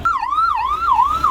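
Police car siren near the Red Fort in Delhi, a loud, close wailing tone that swoops up and down roughly every few tenths of a second over low road rumble.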